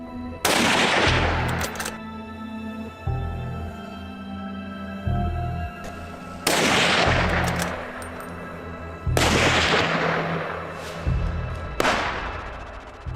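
Rifle gunfire aimed at a herd of wild hogs in Arizona's Santa Catalina wilderness: four loud, sharp shots spaced a few seconds apart, each ringing out with a long echoing decay over a low rumbling background.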